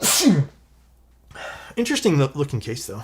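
A single sharp sneeze bursts out at the start, loud and close, followed by a short pause and then a person talking about a product.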